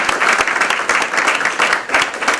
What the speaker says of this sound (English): really give a loud applause for our panelists